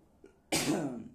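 A single sharp cough, close and loud, after a brief quiet moment, trailing off with a rough breathy tail.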